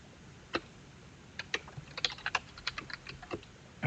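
A Linux command typed on a computer keyboard: a few quick bursts of light, crisp key clicks with short pauses between them, close and fairly quiet, with no voices.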